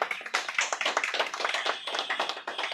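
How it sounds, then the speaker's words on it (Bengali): A small audience at an old-age home cloth-distribution gathering claps hands in a steady, dense patter of mixed near and farther claps, sustained throughout without speech. "সকলে একটু হাততালি দেবে"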